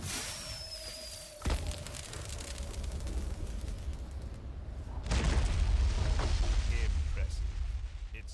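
A musket volley fires in the video game Pirate101, a sharp boom followed by sustained crackling gunfire and rumbling battle noise. Game voices talk during the shooting.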